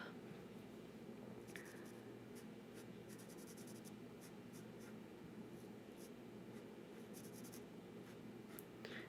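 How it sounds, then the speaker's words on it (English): Sharpie markers scratch and squeak steadily across paper during a coloring session, close and intimate, with short faint strokes repeating over a quiet room hum and no talking. "I love the sound of these Sharpie markers against the paper combined with the smell"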